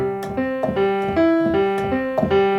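Piano playing a simple chord-based phrase at an even, unchanging tempo and flat loudness, with notes struck in a steady mechanical rhythm and sustained tones overlapping, heard alone and close.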